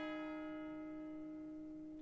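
A church bell rings with a sustained, humming tone that slowly decays, quiet and distant, alone without voices.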